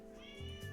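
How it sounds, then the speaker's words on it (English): A cat meows once, a brief, faint cry in the background. "you can hear the cat in the background?"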